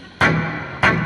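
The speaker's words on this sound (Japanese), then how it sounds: "これはルームリバーブですね" Two electric guitar strums played through a ZOOM G5n multi-effects unit set to room reverb, each a bright attack with a short roomy decay, loud and close with no talking.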